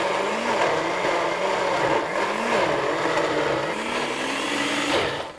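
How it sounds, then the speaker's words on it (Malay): A kitchen blender labours through a dense load of spices, its motor whining and dipping in pitch as the jar clogs, loud and close, running alone for several seconds before cutting off. "aku tengok blender ni dia macam sesak. Pasal banyak sangat rempah."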